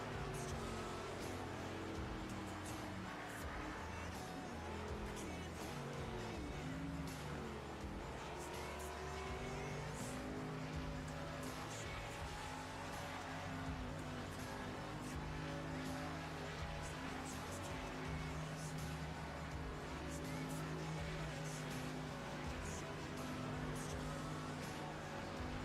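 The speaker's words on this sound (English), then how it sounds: "Let's get some racing audio up here." NASCAR Xfinity Series race cars at Phoenix roar continuously at a dense, steady level, with layered engine drones and occasional tire squeal in the mix.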